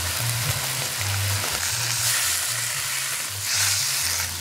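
Chopped tomato sizzling and frying steadily in a hot pan, a continuous close hiss with faint stirring, no talk.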